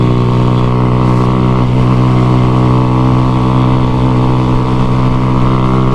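A Rebel T Special Edition motorcycle engine drones loud and close on a street, a steady harmonic roar that holds strong throughout with slight rises in pitch.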